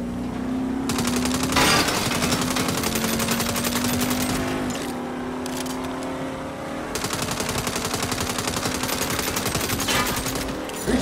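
Rapid automatic gunfire rattles almost nonstop in a Saints Row car chase, loud and close, with a brief lull before the bursts resume amid engine noise.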